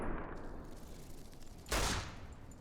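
A single burst of video game gunfire cuts sharply through a low rumbling background, one loud broadband blast lasting about a quarter second before fading.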